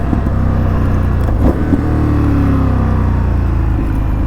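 An Indian FTR 1200 S, a 2020 Race Replica motorcycle, rumbles loud and close while being ridden, its engine note swelling and easing in steady revs with some wind noise on the road.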